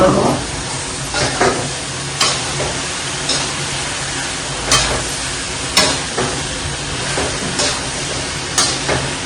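Carrot, pea and potato curry is stirred in a pan, a spoon scraping and clacking against the metal in repeated strokes over a constant close sizzle.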